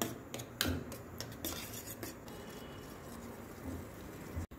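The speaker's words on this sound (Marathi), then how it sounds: "काढून घेऊ बाहेर आणि घोटून घ्यायचं वरण आपल्याला व्यवस्थित" Cooked dal (varan) being mashed and whisked in a cooking pot for a Ganpati festival offering: steady scraping, rubbing and clinking of a utensil against the metal pot, with small knocks, close up and continuous, no voices.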